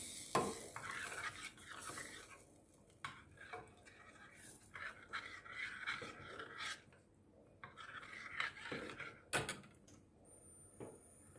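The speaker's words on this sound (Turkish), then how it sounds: "Karıştırıyorum topaklanmaması için." A spoon stirs béchamel sauce in a pot just after milk has been added, giving soft scraping and swishing strokes in an irregular rhythm with a few sharper knocks, fairly quiet and close.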